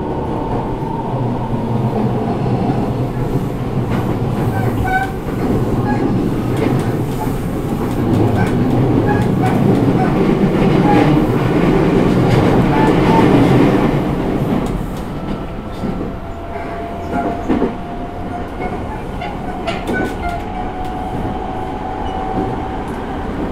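A refurbished JR East E217 series train, bound from Tokyo toward Narita Airport, runs with a loud, constant rumble and rhythmic wheel clatter on the rails. The roar swells in the middle, then eases to a quieter cruising hum.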